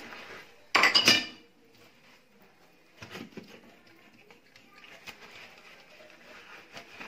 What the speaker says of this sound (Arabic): هشطف كل الكوبايات اهو زي ما انتم شايفين